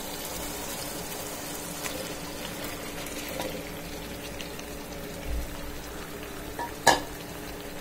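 Coral fish frying in a pan, a steady low sizzle with faint stirring and scraping, one sharp clink near the end, no voices.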